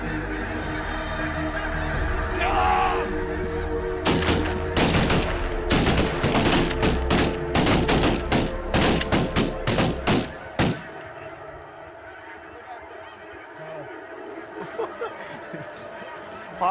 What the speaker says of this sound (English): All these guys jumping up, emptying their guns